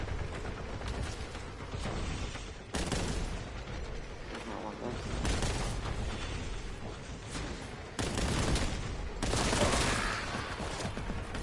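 Bolter gunfire in Warhammer 40K Boltgun roars in a dense, nearly continuous barrage with heavy booming bursts, loud and layered over chaotic combat noise.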